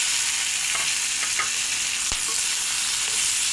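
Green chilies and chopped tomato fry with turmeric and salt in a pan, giving a steady bright sizzle with a few scraping stirs and one sharp clink of a utensil.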